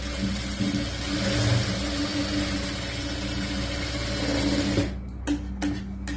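A sewing machine runs continuously while stitching the lining of a churidar top, a steady mechanical whir for several seconds before stopping abruptly, followed by a few short bursts of stitching.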